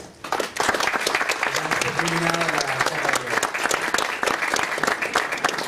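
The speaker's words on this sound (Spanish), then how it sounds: "le damos un fuerte aplauso a Jorge Ducio" Audience applause for a speaker named Jorge Ducio at a talk on climate change and environmental care, a steady, loud clapping crowd with a voice briefly heard beneath it partway through.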